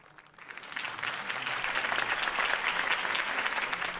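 In the Batman Telltale game, a crowd applauds Harvey Dent's campaign speech, the clapping swelling from faint to a steady, full roar of many hands that holds to the end.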